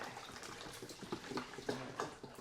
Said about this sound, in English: take a can of tomato juice, pour that in there